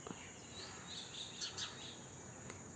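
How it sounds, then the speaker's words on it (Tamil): Male house sparrow chirping in short, bright tweets scattered over a steady insect-like hiss, with a couple of more distinct calls near the middle; no voices. "இது ஆண் குருவி."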